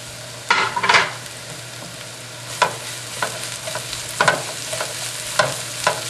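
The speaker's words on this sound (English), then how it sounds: "Stir a little bit. We're going to add in all the vegetable." Vegetables stirred and sautéing in hot vegetable oil in a pan for baked vegetarian spring rolls, with a low steady sizzle broken by several sharp scraping stirs and clatters of a utensil, close and moderately loud.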